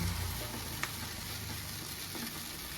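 Ground almond and cashew paste frying with spices in a pan, a steady close sizzle throughout with a faint clink of stirring.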